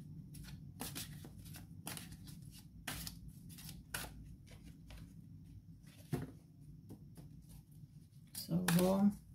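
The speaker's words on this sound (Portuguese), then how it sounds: "Só vou embaralhar para verificar o fundo do deck" Tarot cards are shuffled by hand in a run of quick, papery riffles and soft flicks, close and fairly quiet. A voice speaks intermittently between bursts.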